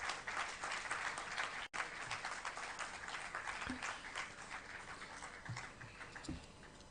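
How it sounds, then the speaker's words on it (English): An audience applauds to welcome a speaker to the dais at a seminar, with steady, dense clapping from a crowd that continues throughout, with a brief cut partway. "with your round of applause, I heartily welcome"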